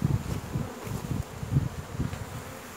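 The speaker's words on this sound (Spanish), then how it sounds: "Esas abejas que ustedes ven que están ahí" A low, continuous buzz of many bees hums close by during a hive transfer, swelling and fading slightly without pause.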